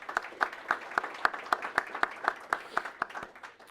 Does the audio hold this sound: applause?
yes